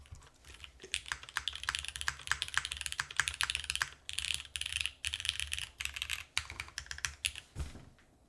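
Typing on an Angle65 mechanical keyboard, a run of close, crisp keystroke clicks in quick irregular bursts with short pauses between them. No one talks over it.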